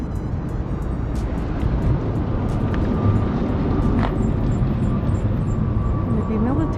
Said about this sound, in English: Check that out. It's a black airplane.